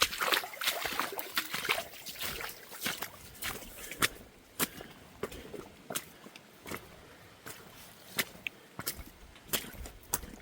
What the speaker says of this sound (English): Things are dripping all over the place.